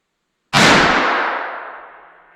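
A single sharp, loud rifle shot from a Savage Arms Model 2 chambered in 22-250 cracks out, then rings and fades over about two seconds with no talking.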